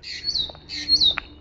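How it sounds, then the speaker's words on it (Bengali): Two harsh, high-pitched bird squawks, each a drawn-out call, sounding fairly close with no one talking. "ওই দেখো একটা পাখি ডাকছে"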